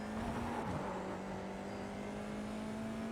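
A Formula 4 race car's engine held at full throttle through a chicane at the Nürburgring Grand Prix circuit in iRacing, a steady high-pitched drone with a brief dip in pitch, then a constant whine for the rest of the run.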